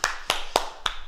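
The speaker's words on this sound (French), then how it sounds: "on s'applaudit" Four separate claps spaced evenly from a small karate class, sharp, close and in unison, with no talk.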